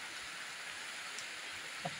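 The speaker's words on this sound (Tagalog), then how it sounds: "Ito sige pang ulan." Steady heavy rain pouring down during a typhoon in the Philippines, with a swollen river nearby, a continuous broadband hiss with no break and a faint brief knock near the end.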